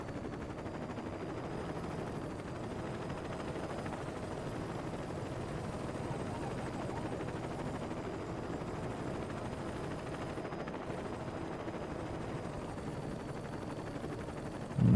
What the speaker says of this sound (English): God, there's a lot of police helicopters around here.